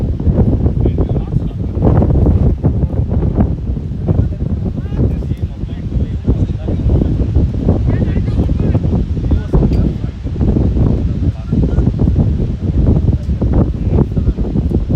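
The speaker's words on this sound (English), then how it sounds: "Strong gust of winds." Strong gusts of wind batter the microphone at a cricket ground during a weather delay, making a continuous loud rushing roar for the whole stretch with no break.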